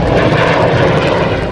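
Fixed-wing airplane taking off, a loud continuous engine roar that stays strong and steady throughout with no voices.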